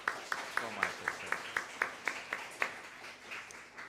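A church congregation claps in an even, steady rhythm for camp organizers. Crisp claps land about four per second at moderate loudness in a roomy space, fading slightly toward the end.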